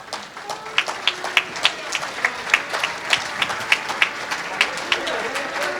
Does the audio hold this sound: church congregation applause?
yes